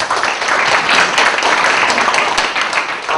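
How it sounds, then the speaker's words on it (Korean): An audience applauding a presenter at a talk on Android open source and patterns, close, loud, dense clapping from many hands sustained without a break. "그 큰 박수 부탁드리겠습니다"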